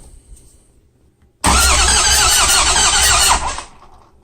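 A Ford 6.0 Powerstroke diesel with a KC Stage 2 turbo cranks loudly and steadily for about two seconds after a quiet start, then trails off without catching.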